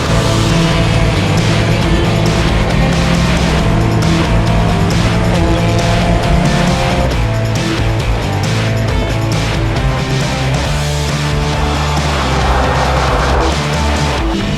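A Toyota Yaris running laps at Buttonwillow race track counterclockwise, engine revving up and down continuously with road and wind noise, loud and close from inside the car.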